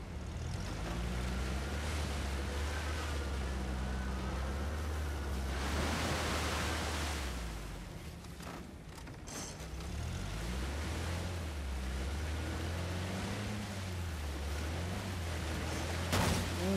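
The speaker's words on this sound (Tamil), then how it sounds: "மறுபடியும் அருவிக்கு வந்துட்டோம்." A waterfall in the video game Uncharted: The Lost Legacy gives a steady, broad rushing roar throughout, with low, slow-moving musical tones underneath.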